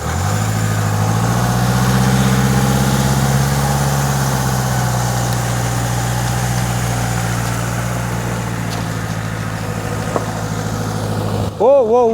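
A vehicle engine runs loud and steady at low revs for several seconds while reversing a trailer carrying a 23 ft sharpie trailer yacht, with a brief change near the end.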